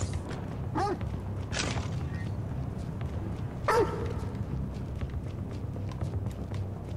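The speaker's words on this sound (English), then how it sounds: "Where's my dog? Let's call him in. Good boy, you fucking monster!" Companion dog in the video game Necromunda: Hired Gun, giving a few sharp barks or yelps over a steady low rumble of game ambience, with a louder bark near the end.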